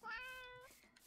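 A cat meows in the game Minecraft, a single drawn-out, clear in-game meow, close and fairly loud, ending as a faint voice begins.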